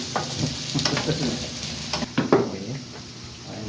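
Chopped tomato and onion get stirred in a sizzling pan for chicken curry, with soft spoon scrapes and light clinks over a continuous frying hiss, heard close and moderately loud without any talk.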